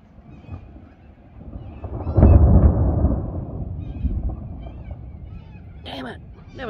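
Thunder from a lightning strike in a storm rumbles in, swells to a loud low roll and slowly fades, and a voice speaks briefly near the end.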